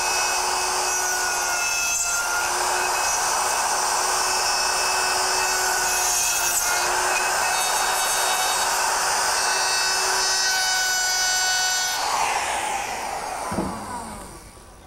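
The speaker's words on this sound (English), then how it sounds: "I'm going to use my router, which is equipped with a dovetailing bit and a collar." A router fitted with a dovetailing bit and collar cuts drawer dovetail joints in wood using a jig, producing a loud, steady, high-pitched whine with a rushing cutting noise that winds down near the end.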